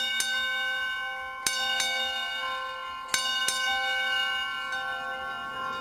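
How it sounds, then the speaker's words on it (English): A bell rings aboard the International Space Station as the shuttle Atlantis undocks. Several clear metallic strikes, some in quick pairs, each leave a long, bright ringing tone that lingers between hits, with no talking. "Apparently bells work in zero gravity"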